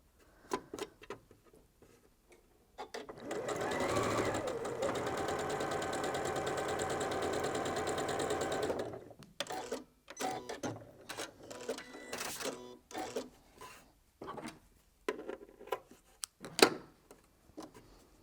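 A sewing machine hums steadily for several seconds while stitching quilt fabric for a heart and nine-patch quilt, then stops, followed by scattered clicks and handling sounds.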